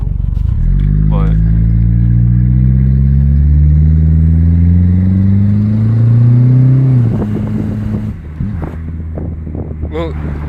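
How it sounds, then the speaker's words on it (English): An over-boosted turbocharged classic car accelerates hard, its engine tone climbing loud and close for several seconds before easing off, followed by a brief hiss and flutter as the wastegate opens under wind noise. "You can hear the wastegate open now."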